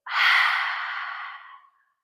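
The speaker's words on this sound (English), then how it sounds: "Big inhale through the nose and exhale, let it out." A single deep breath, heard as one long, steady, breathy exhale lasting about a second and a half, close and clear, during a full-body mobility session.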